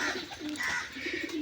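A Giribaz tumbler pigeon gives a short, soft, throaty coo, close and alone against a faint background.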